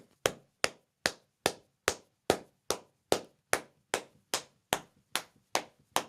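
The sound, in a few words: clapping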